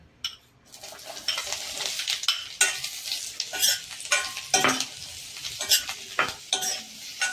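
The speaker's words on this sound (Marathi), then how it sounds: "याच कढईमध्ये अर्धा तेल चमचा टाकून कांदा, टोमॅटो, जे काही ओला मसाला आपला तयार होता तो भाजून घेऊ" Onion, tomato and wet masala roast in half a spoon of oil in a kadai for Kolhapuri chicken sukka, giving a soft sizzle under repeated scraping stirs of a spoon against the pan.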